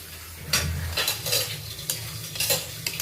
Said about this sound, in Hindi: अभी चिकन को डाल लिया गया है और इसे अब मसाले के साथ अच्छे से मिक्स कर लेंगे